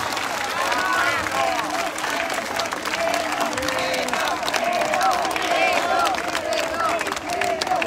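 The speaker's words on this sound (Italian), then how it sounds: "fate un applauso a questo ragazzo, a Edoardo Rizzi" A large outdoor crowd in a town square in Sanremo applauds steadily at a political rally, with scattered cheers and voices mixed into the dense clapping throughout.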